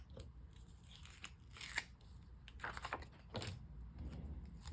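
Scissors cut through planner paper in quick, crisp snips that come in short bursts with small pauses between them, close up, over a faint background hum.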